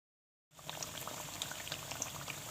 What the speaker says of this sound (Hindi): अब खूब गरम ऑयल में एक एक करके बेसन मिले आलू डालते जाए।